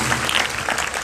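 A church congregation claps during a Hindi-language service: a brief, even burst of many hands applauding at moderate volume with no voices over it.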